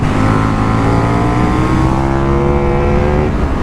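KTM 1390 Super Duke R motorcycle engine pulling hard, a loud, continuous close-up roar with harmonics climbing as it accelerates, steady and unbroken throughout with no voices.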